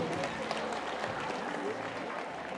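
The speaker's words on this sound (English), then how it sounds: "Please clap for him, please." A crowd at a school speech and prize-giving day applauds, a short burst of clapping mixed with crowd murmur and voices, moderately loud throughout.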